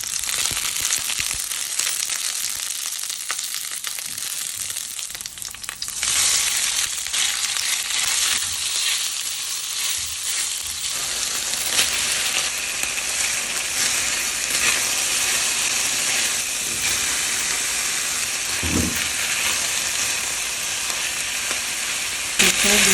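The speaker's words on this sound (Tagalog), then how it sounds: "Pagkainit, lagay natin yung ating sibuyas at saka bawang." Onion and garlic sizzle steadily in hot cooking oil, a dense continuous crackling fry with occasional stirring scrapes and no talk.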